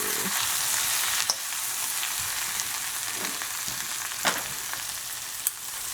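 Cauliflower pulao with curry powder, pepper and coriander powder sautéing in a pan gives a loud, steady close sizzle, with a few sharp scrape and stir knocks breaking through.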